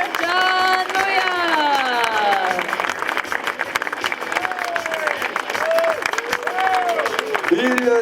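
Crowd applauding and cheering for a cyclist on the podium at a mountain cycling event finish in Risoul, sustained clapping under an announcer's voice.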